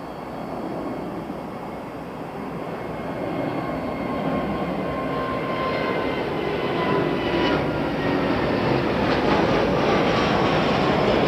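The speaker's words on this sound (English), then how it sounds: "And here comes one of their Dreamliners." A British Airways Boeing 787 Dreamliner airliner passes at London Heathrow Airport, a steady broad roar that slowly swells over the stretch, moderately loud and continuous with no talking.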